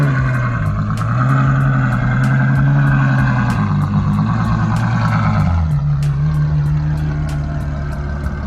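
A Mercedes C63 with a biturbo V8 rumbles loud and close at a car meet, its deep engine note swelling and easing back in a steady growl with no talk.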